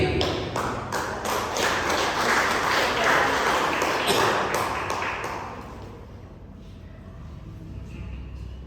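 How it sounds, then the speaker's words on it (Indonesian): A church fellowship gathering claps loudly in a dense burst of applause that fills the room, then fades to a softer, thinner patter toward the end. "Boleh sekali lagi tepuk tangan kita untuk Tuhan Yesus dengan segala kemuliaannya."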